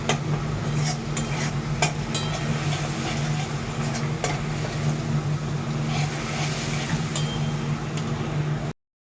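Ghugni masala with chili being stirred and sautéed in a pan: steady close sizzle under a low hum, with scattered scrapes and clinks of a spoon against the pan throughout.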